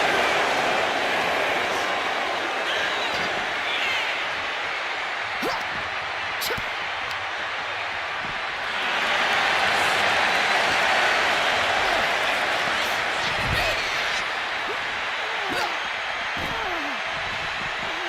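Arena crowd in the WWE 2K25 wrestling video game cheers in a steady, loud roar, swelling midway, with commentary voiced over it and occasional impacts.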